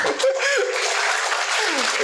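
A crowd claps steadily for a couple of seconds, a dense patter of applause with a faint voice near the start.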